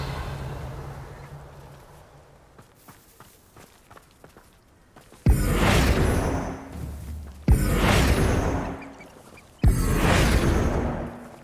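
Revelio spell cast in Hogwarts Legacy, three loud, sudden bursts each followed by a shimmering swell that fades, coming after softer footsteps and muffled movement.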